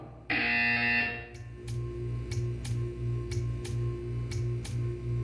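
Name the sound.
buzzer sounding in video game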